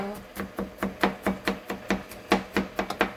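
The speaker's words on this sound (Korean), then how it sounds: "와, 칼질도 잘하시네요." Rapid, rhythmic knife chops on a cutting board in a home kitchen, about a dozen sharp strikes in quick succession, close and fairly loud.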